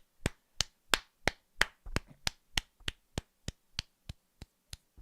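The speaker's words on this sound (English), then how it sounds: "Can we just please have a moment of applause for Leeds United?" Clapping from a small group or single pair of hands, around fifteen sharp, evenly spaced claps over five seconds, fairly close and alone with no voices.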